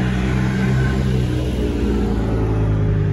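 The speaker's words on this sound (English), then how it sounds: "Love a V10 M5." BMW M5 with a V10 engine revving near a car show exit, a steady loud mechanical roar with strong low harmonics held for a few seconds, no talk over it.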